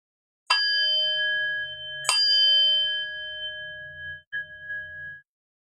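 Two clear strikes of a meditation bell, each followed by a long, bright, shimmering ring that slowly fades. A softer third touch comes near the end in an otherwise quiet room.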